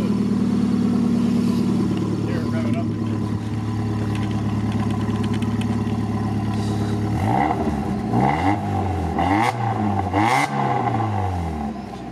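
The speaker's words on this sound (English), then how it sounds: "Sounds like a Miata. I think it sounds pretty good." Mazda Miata engine idling with a steady low drone, then revved several times in quick, rising and falling bursts, loud and close.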